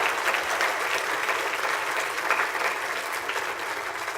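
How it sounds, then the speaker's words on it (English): Graduates receive a sustained round of applause at a high school graduation ceremony, a large crowd clapping densely and evenly at a steady volume with a faint low hum beneath. "Can we have one more round of applause for our graduates?"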